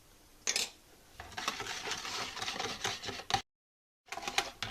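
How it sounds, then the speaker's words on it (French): Oil, vinegar and a teaspoon of vanilla being mixed into chocolate cake batter in a bowl, a busy run of clinking, scraping utensil strokes, close and fairly steady, then a brief silent gap before the mixing resumes. "Et je vais à nouveau mélanger l'ensemble."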